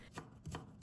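Peeled fresh ginger is cut into thin shreds with a knife, producing three or four quick, close chopping taps on a board in an uneven rhythm.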